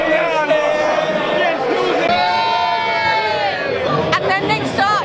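Crowds fill busy bar terraces in Benidorm during Cheltenham race week, a loud close babble of chatter and shouts. Voices rise over it, with occasional whoops.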